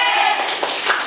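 Third-grade primary school class doing the 'tepuk hebat' rhythmic clap together, a short burst of children's clapping and voices close by.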